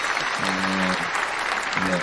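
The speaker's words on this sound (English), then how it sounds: "And a crowd clap." A crowd-clapping effect plays as a dense, steady burst of applause through the whole moment, with a voice speaking over it in short stretches.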